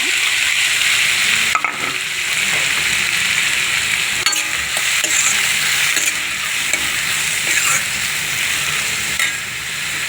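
Onions fry in a pan after cumin seeds for a boondi cashew curry, producing a loud, continuous close-up sizzle with scattered stirring clicks throughout.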